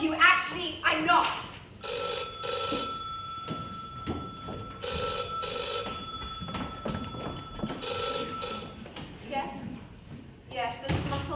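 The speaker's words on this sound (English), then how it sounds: "No, I'm afraid Mr. Ralston can't come to the phone just now" A telephone bell rings in three loud bursts of repeated trilling, with speech and thuds in between during a stage performance of The Mousetrap at a guest house.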